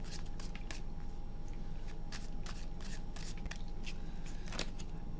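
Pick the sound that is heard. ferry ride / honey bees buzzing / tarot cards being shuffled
tarot cards being shuffled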